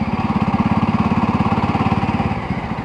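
A Jawa 42 motorcycle engine thumps with a fast, even pulse while being ridden, close and loud, holding steady and easing off slightly near the end.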